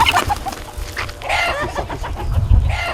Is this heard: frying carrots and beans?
no